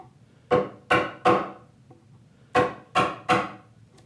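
A freshly sharpened chisel struck with a mallet chops bevel-down into walnut, making two groups of three sharp woody knocks, close and crisp, with a brief pause between the groups.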